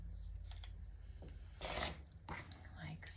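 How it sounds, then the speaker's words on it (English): Rotary cutter or scissors trimming quilting fabric for a square-in-a-square quilt block, giving a few soft scraping and cutting bursts close by, with faint handling noise between them. "And then I'm gonna trim this one"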